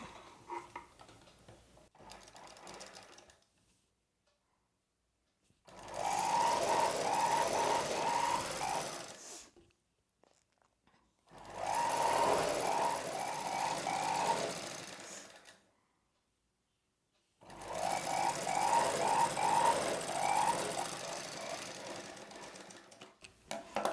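A sewing machine stitches a folded saree blouse edge in three long bursts of rapid, steady whirring, each separated by a few seconds of near silence, close and loud with no talking.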